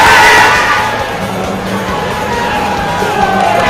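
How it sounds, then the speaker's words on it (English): A darts crowd at the UK Open cheers loudly for a player on the outside board, a dense roar of voices and shouts that is strongest at the start and then settles into sustained noisy cheering. "I don't think I've ever heard a crowd like that on the outside board"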